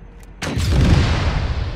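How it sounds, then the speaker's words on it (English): A tank cannon fires in a military combat game: one heavy, sudden boom with a deep rumbling tail, preceded by a faint distant report. "Tank just fired on it."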